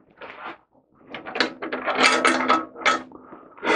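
Guard cover is worked loose from a Metabo HC 260C planer-jointer: close clattering, scraping plastic-and-metal knocks and rattles in a few uneven bursts with brief pauses, no speech.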